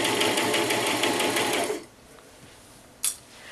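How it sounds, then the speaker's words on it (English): A sewing machine stitches around the hem of a nightgown in a loud, steady whirring run that stops partway through, followed by a brief mechanical click. "I like to sew around the base of the nightgown 2 times,"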